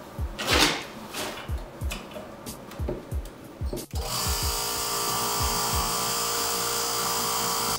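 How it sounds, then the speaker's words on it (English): An air compressor pumping toward 1,400 PSI for a homemade submarine light test starts up midway with a loud, steady rumbling drone. Before that come rhythmic knocking thumps and clatter. "I'm going to bleed air off the compressor"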